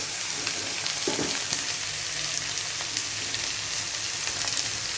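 Capsicum fries in hot oil with browned onion and garlic, a steady close sizzle with occasional light pops and one brief stir, and no speech.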